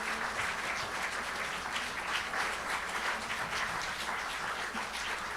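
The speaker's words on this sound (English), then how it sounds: "Yeah, we can clap." An audience at a Soviet Jewry Movement 60th anniversary commemoration claps steadily, a dense, sustained applause that sounds fairly close and keeps a constant level from start to finish.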